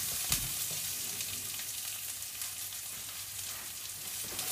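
Onion and garlic fry gently in a pan on low heat, giving a continuous soft sizzle with light crackles, and a single sharp tap near the start.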